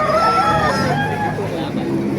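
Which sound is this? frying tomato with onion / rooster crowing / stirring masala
rooster crowing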